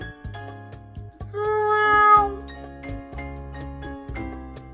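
A black cat meows repeatedly in short, tonal calls, close and clear, with a brief rising, louder cry in the middle and quieter meows trailing after.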